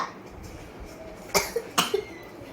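Two sharp, close coughs in quick succession break a quiet room, followed by a couple of softer throaty bursts.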